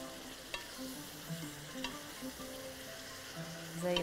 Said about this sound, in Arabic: اهو نشوح البصل تشويحة حلوة، نقلب تقليبة جميلة